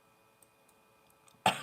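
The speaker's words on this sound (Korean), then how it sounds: "기침이 계속 나." A single short, sharp human cough at the very end of a quiet room, preceded by faint ticking.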